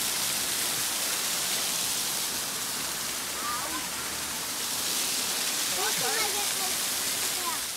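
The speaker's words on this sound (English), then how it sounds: "We're just in the trees now, near the top of the waterfall." Near the top of a waterfall in forest, a broad, steady roar of rushing water fills the scene without pause, with faint voices briefly audible beneath it.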